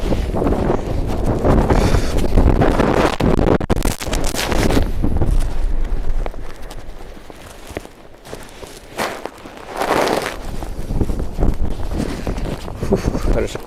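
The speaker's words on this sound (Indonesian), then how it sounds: "Makin kenceng anginnya." Strong winter wind on a minus 9 degree day in Muroran, Hokkaido buffets the microphone in heavy gusts that rise and fall, with footsteps and brief talk underneath.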